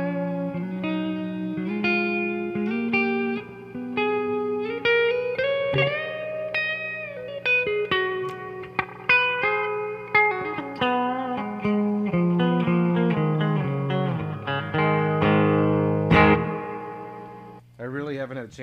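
A Gibson LPJ electric guitar plays clean, melodic single notes and chords through a Fender '68 Custom Deluxe Reverb reissue amp with only its built-in reverb. The playing is up close and sustained, and it ends with a strummed chord.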